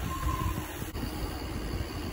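A train rumbles past steadily and fairly loudly throughout, with a heavy low roar and a faint high squeal early on. It comes through during a ride around Southend and London, and no one speaks over it.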